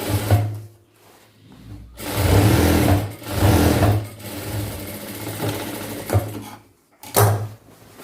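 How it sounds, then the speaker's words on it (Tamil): A sewing machine runs double stitching on a chudidhar pant in repeated bursts of rapid whirring with short pauses between runs, near and clear, with no voices. "அதையே டர்ன் பண்ணி டபுள் ஸ்டிச் போட்டுக்கிறேன்"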